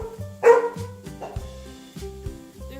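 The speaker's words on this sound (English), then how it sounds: "He always barks at nothing." A dog barks indoors in a series of short, moderately close woofs with brief gaps between them, no other sounds around.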